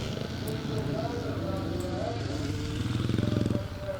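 A classic scramble racing motorcycle on a dirt course gives a steady, buzzing engine drone that pulses more strongly toward the end, with someone talking over it throughout.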